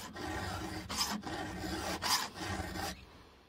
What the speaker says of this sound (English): I'm just gonna keep sharpening this until that corner